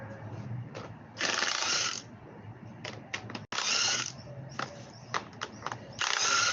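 A socket wrench works bolts loose on an outdoor AC coil, giving bursts of quick ratcheting clicks. Short clicking runs alternate with sharp single ticks and brief pauses, close and fairly quiet.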